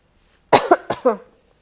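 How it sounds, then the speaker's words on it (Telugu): A short fit of four quick, close coughs, the first two harsh and the last two slightly softer, in an otherwise quiet room. "స్వీట్ తింటే వెంటనే దగ్గు వచ్చేస్తుంది అది ప్రాబ్లము"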